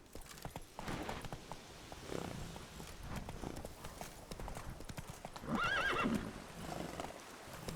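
Horse riding in The Witcher 3: Blood and Wine, with rhythmic galloping hoofbeats and a loud whinny partway through, set among game ambience and faint background voice.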